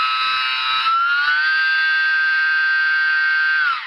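Small electric motor of an E-flite J-3 Cub UMX model plane spinning a repaired, trimmed propeller: a loud, high, steady whine that shifts pitch as the throttle changes, then winds down at the end.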